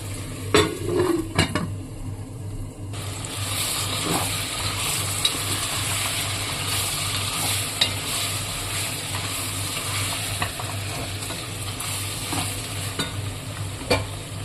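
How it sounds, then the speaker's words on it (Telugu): Mutton cooks with spices and turmeric in a pot for a drumstick mutton curry, sizzling steadily close by while a spoon stirs and scrapes against the metal now and then. "ఒక 5 మినిట్స్ మసాలాలు, పసుపులో బాగా ఉడకాలండి ఈ మటన్"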